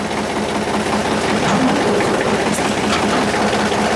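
An old tractor engine, one of a pair roughly 70 and 95 years old, running with a rapid, steady mechanical chatter and clatter, loud and close for several seconds.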